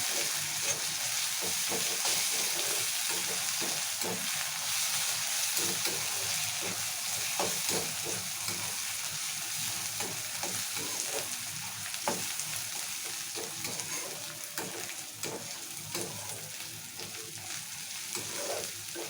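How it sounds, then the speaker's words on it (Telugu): Ginger garlic paste and spices frying in oil for a chicken curry, giving a steady, dense sizzle throughout with occasional stirring clicks and scrapes, close and continuous, with no voices. "అల్లం వెల్లుల్లి పేస్ట్ మంచిగా పచ్చివాసన పోయే వరకు లైట్ ఫ్రై చేసుకోవాలి"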